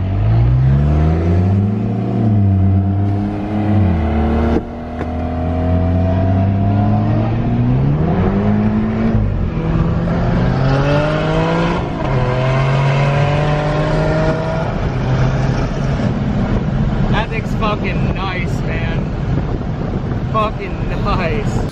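A Porsche sports car with a tuned full exhaust accelerates through its gears, loud and close, with rising engine tones and shifts, plus wind buffeting and voices in the background.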